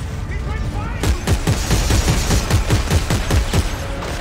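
Gunfire in the video game Dead Space 3 pops in a rapid, evenly spaced volley of loud shots over constant game noise, with talk mixed in.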